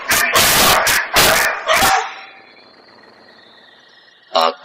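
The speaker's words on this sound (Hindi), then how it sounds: "उसे चारों तरफ से कुत्तों ने घेर लिया" Dogs barking loudly in a quick burst of several overlapping barks and yips, then a long quiet gap and one more short bark near the end, used as a sound effect in a Hindi horror audio story.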